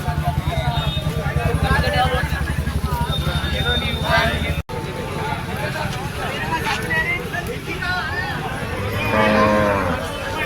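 Cattle low and moo at a Sunday cow market at Chilpur Gutta, the calls mixed into steady crowd noise while people talk close by throughout.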